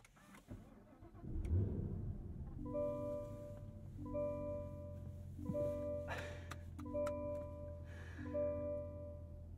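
A 2023 Cadillac CT5-V Blackwing engine cranks and catches, then settles into a deep rumble with a few short revs rising and falling over the idle.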